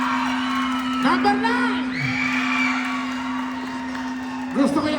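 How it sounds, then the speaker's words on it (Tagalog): A crowd at a live show whoops, shouts and cheers in a few rising bursts over a steady droning hum, fairly close and lively. "Gusto ko yung sigaw nyo."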